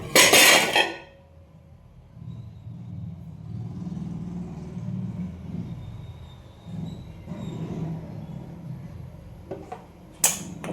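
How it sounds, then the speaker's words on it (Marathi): Metal idli steamer plates being greased with oil clink and clatter loudly at the start, followed by quieter scraping and handling sounds, with another sharp metallic clank near the end. "भांड्याला आपण तेल लावून घेऊया."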